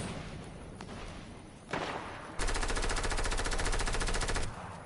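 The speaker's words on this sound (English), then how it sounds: "a green SMG" Sustained rapid burst of green SMG fire in a video game, loud and dense, kicking in after a couple of softer thumps and running steadily for about two seconds before stopping.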